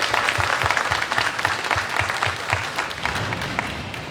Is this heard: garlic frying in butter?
no